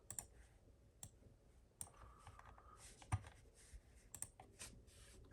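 Typing on the keyboard of a 2011 iMac: quiet, irregular key clicks, some single and some in quick clusters, close by in a very quiet room.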